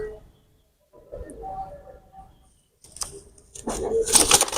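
Pigeons, a Jonsila teddy cock and a red-pied hen, coo softly near the microphone, then a louder burst of wing flapping and rustling closes the clip.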